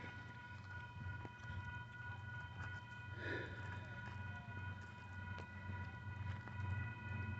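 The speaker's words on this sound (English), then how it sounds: "UP intermodal train, stack train." A Union Pacific southbound intermodal stack train led by several locomotives passes at a distance, heard as a steady low rumble with sustained horn-like tones throughout.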